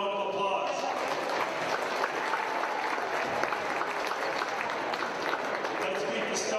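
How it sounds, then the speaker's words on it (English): Crowd applause in a high school basketball gym before a game, a steady wash of clapping throughout at moderate distance, with faint voices mixed in. "Let's give him a round of applause."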